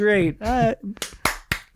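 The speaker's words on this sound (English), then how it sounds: "I'm clapping" One person claps their hands four times in a quick, sharp, close run, each clap a crisp separate burst, heard right after a short spoken phrase.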